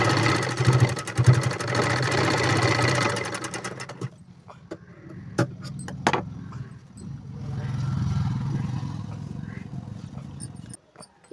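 An electric sewing machine stitches a boat neck blouse with a steady, close mechanical buzz for several seconds, then stops and gives a few short bursts of stitching against a quiet room hum.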